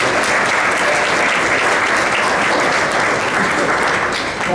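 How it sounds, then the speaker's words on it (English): Sustained, loud applause fills a banquet room at an athletics awards night, a steady wash of clapping from a large audience that holds even throughout and only dips slightly at the very end. "So you need to give yourself a round of applause here."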